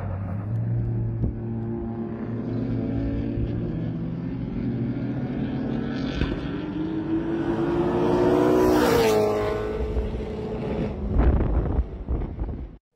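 A Toyota 1UZ V8 engine running through equal-length headers, a deep steady exhaust drone that rises in pitch as it revs up, then falls back, with some wind noise on the microphone.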